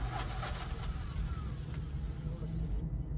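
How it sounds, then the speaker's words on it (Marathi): A Tata Intra V10 diesel engine idling after being started following cylinder head work, a low steady rumble with a faint rising whine, while someone speaks over it. "थोडं राऊंड घेऊन गाडी चालू झालेली आहे आपली. फायरिंगही चांगली आलेली आहे गाडीची."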